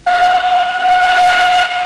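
Edward the steam engine gives a loud, sustained whistle at a station, one steady tone held for nearly two seconds with a bright overtone above it.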